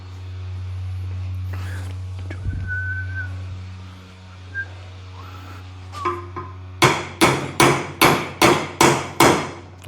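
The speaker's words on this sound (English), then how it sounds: "I wonder if I tried tapping them with a hammer, if that would do us any favors." After a quiet stretch with a faint whistle and low hum, a hammer taps metal on a Triumph Spitfire driveshaft about eight times in a quick, steady rhythm, close and bright.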